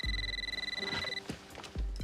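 A telephone rings in a TV show scene, a steady trilling electronic ring with a high pulsing tone for about a second, followed by faint thumps and shuffling.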